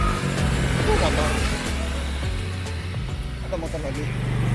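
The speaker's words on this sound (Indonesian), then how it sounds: "Ada motor lagi." A motorcycle passes along the road, its engine rumbling and shifting pitch as it goes by, amid other traffic noise and muffled voices.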